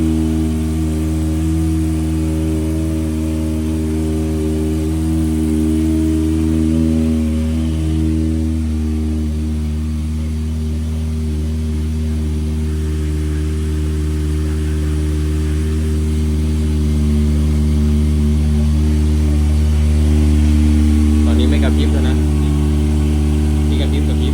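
A Kawasaki Ninja 400 or ZX25R sport bike engine hums steadily on a test ride, a constant mid-pitched drone with slight swells in revs throughout.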